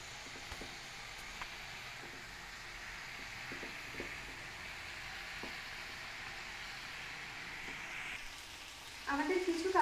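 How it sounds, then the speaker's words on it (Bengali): Chicken kebab pieces, chicken chaap style, sizzling steadily in a frying pan after being turned, a soft continuous hiss with scattered small pops and a brief louder stirring or scraping burst near the end. "একটা পিঠ ভালো করে ভাজা হয়ে গেছে, এবার আমরা এটাকে উল্টে দেবো"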